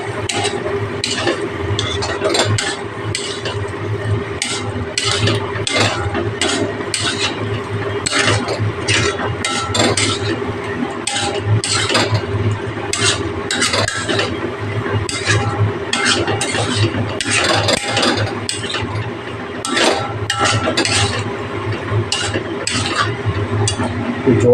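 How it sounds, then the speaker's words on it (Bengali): Cubes of paneer are stirred through masala in a pan. A spoon scrapes and clinks against the metal in quick, continuous strokes, loud and close, with a faint sizzle underneath. "এবার আমি পনিরগুলো দিয়ে দিচ্ছি।"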